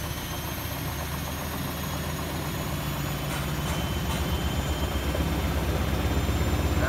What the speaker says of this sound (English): spin part unbalanced. This is going to be 1400 RPM.